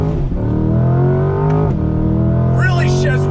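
A 2020 Camaro ZL1 1LE pulls hard under throttle, its engine note rising through the gears with a shift around the midpoint, loud and close, while someone talks over it.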